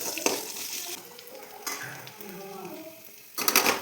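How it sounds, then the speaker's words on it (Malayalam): Sambar powder stirred and fried in a pan, a soft sizzle with a spoon scraping the metal, brief clinks at intervals and a louder burst of scraping at the end, fairly quiet overall. "കുറച്ചുകൂടെ ഒന്ന് ഇളക്കി കൊടുക്കാം"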